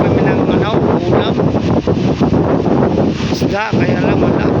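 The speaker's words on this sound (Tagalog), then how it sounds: "Lakas ng hangin." Loud, steady wind roars and buffets the microphone throughout at the sea shore with rough waves, a constant rushing gust with a voice briefly audible beneath it.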